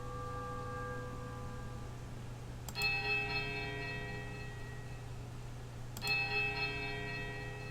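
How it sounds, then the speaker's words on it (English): A large, heavy iron bell in Pillars of Eternity tolls twice, a few seconds apart. Each strike rings into a long, humming decay over a faint, steady drone in an otherwise quiet space. "The clapper strikes a low, powerful note against a heavy iron."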